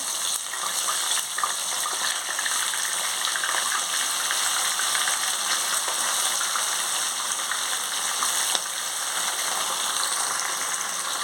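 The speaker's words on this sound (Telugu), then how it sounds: "మళ్ళీ ఈ విధంగా వేయించుకోవాలి చేప ముక్కలన్నీ ఫ్రై చేసానండి" Pieces of chanduva (pomfret) fish fry in hot oil with a dense, unbroken sizzle that holds at a steady loudness. There is one small pop near the end, and nobody speaks.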